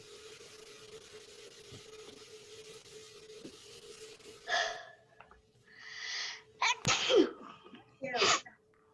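A sudden human sneeze bursts out after a quiet stretch with faint hum, followed by a few short breathy snorts and sniffs, close and fairly loud in an otherwise calm room.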